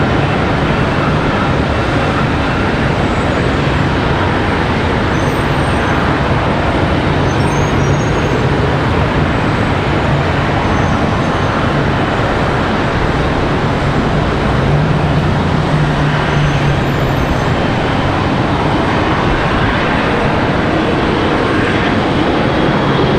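A jet departing Charlotte Douglas International Airport makes a loud, continuous roar that stays fairly even throughout, with no voices over it.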